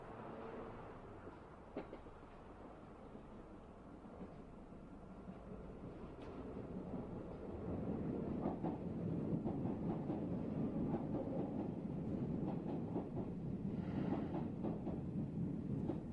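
A train rumbles along with rhythmic rail clatter, faint at first and building to a steadier, louder roll, heard from inside the carriage.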